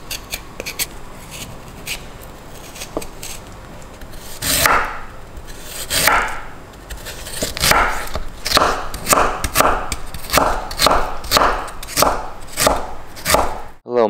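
A kitchen knife minces peeled fresh ginger on a cutting board, a steady run of close, crisp chops that quickens into an even rhythmic tapping, with no voices.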